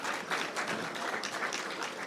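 An audience at the launch of KCB's 2025 WRC Safari Rally sponsorship breaks into scattered applause, a dense patter of many clapping hands that holds steady for a couple of seconds.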